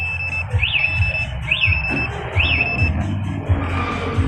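A motorcycle anti-theft alarm on a Honda CRF150L, triggered by moving the bike, cycles through loud rising-and-falling chirps, about three in a row, over a low rhythmic clicking pulse.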